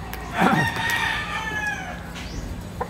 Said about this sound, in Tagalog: Malaking manok to.